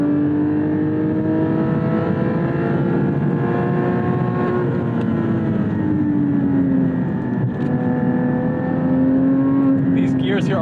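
A Porsche 718 Cayman GT4 engine drones from inside the car while driving, its pitch slowly rising and falling through the rev range in one long gear, steady and fairly loud with some talk over it.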